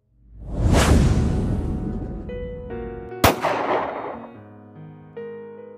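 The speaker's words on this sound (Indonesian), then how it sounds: "Bunyi ledakan terdengar begitu nyaring setelah Zoa beserta pasukannya telah menjauh dari markas Tuan Max." In an audio novel, a large explosion effect swells into a deep roaring whoosh, and a second sharp blast cracks through it before rumbling away under a sustained musical chord.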